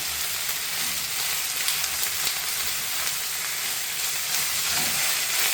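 Beef sizzling and frying as it browns in a pan for stew, a steady close hiss of spitting fat with faint stirring clicks, continuous throughout with no talking.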